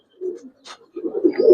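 Gibraz pigeons coo in short, soft, low bursts, the calls broken by a brief higher flutter, then continuing in a denser run of close coos at a pigeon farm.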